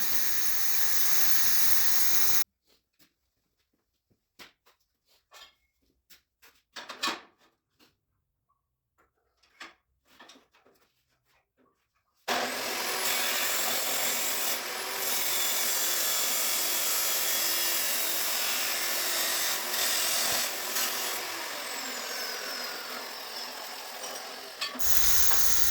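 Cold cut saw slicing 45-degree angle cuts in metal stock for a dirt car trailer storage box, a loud steady hissing grind in two long passes separated by a quieter stretch of clattering and handling.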